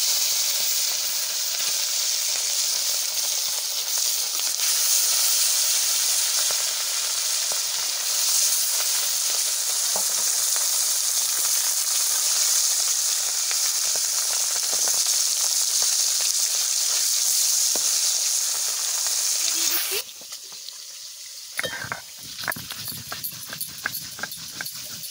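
Hilsa fish dropped into hot smoking oil for a mustard masala: a loud, steady sizzling hiss that runs for a long stretch before cutting out, followed by scattered clatter and spits.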